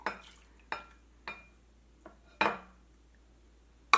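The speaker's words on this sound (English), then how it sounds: "So I will mix the agar-agar to the raspberry." A spoon stirs agar-agar into raspberry coulis in a pot, giving five or six separate clinking scrapes against the pot at an uneven pace, close and fairly clear with quiet gaps between them.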